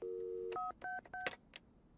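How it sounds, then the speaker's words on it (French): A telephone keypad tapped for a prank call: a longer opening tone followed by three short dialing beeps in quick succession, clean and close, with a few faint clicks after and no talking. "toujours composer étoile 67 avant de passer son coup de fil"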